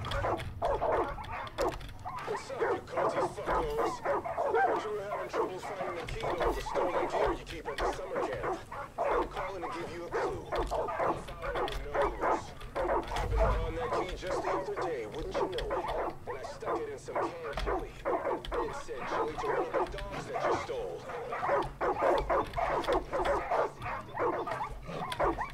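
Dogs barking and whimpering in Far Cry 5, with busy game sounds and talking throughout; the yips and barks are mixed into a dense, continuous background.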